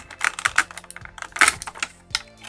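Action figures being popped out of tight plastic blister packaging, a quick run of sharp clicks and crinkling snaps up close, with no talking.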